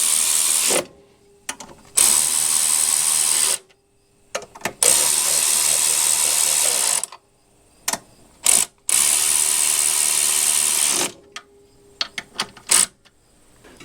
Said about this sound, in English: I'm just using a clicker type torque wrench.